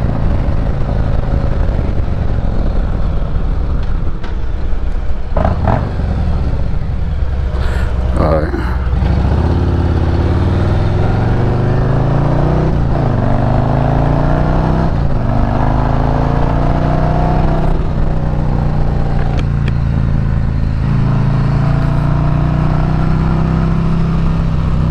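Heavy wind roar buffets the microphone while riding a 2024 Harley-Davidson Road Glide, with the engine rumbling and rising underneath and someone talking over it throughout.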